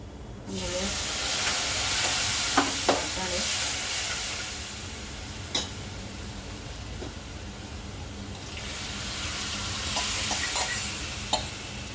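Papdi chaat mixture being sautéed and stirred in a pan, giving a steady sizzling hiss with occasional clinks of a spoon against the pan. The sizzle fades to a quieter stretch midway before rising again.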